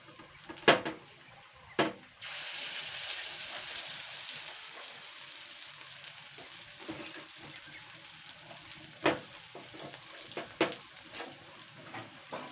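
Potato and egg fritters (dimaloo bora) frying in hot oil make a steady, fairly quiet crackling sizzle. A few louder clatters and knocks punctuate it, and there is no talking.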